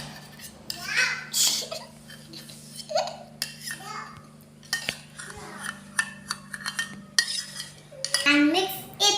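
Sandwich filling being stirred into white sauce in a bowl with a spoon, giving irregular clinks and scrapes of utensil on dish, while someone talks and babbles nearby.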